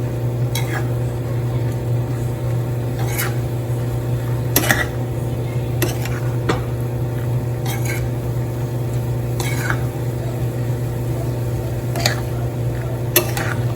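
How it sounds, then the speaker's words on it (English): Pot of mushroom mutter being stirred after garam masala goes in, with a steady low hum of the stove and light sizzling beneath repeated scraping and clinking strokes of a spoon against the pot at irregular intervals. "Mix all of this thoroughly."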